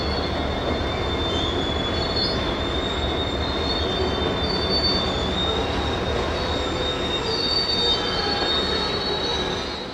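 Pan Am switcher locomotive ED4 pulling the head end of a freight train out of a foggy East Deerfield yard, with steady rolling rumble and continuous high-pitched wheel squeal from the cars, close and loud throughout.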